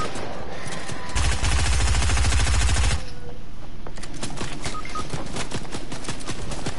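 Rapid machine-gun fire in a PS4 shooter game, a loud, tight burst of rattling shots lasting about two seconds, then scattered sharper shots and clicks continuing at lower volume.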